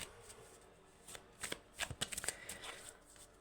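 Tarot cards shuffled by hand close up, soft riffling at first, then a quick run of sharp flicking snaps, fairly quiet with no talk.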